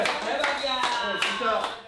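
Brief burst of applause from a small group, hands clapping in a quick, dense rhythm, fairly close and steady for a couple of seconds.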